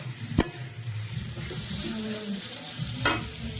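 A spoon stirs a tempering of five-spice seeds and a bay leaf in hot oil, giving a steady soft sizzle with two sharp metallic scrapes against the pan, one near the start and one near the end.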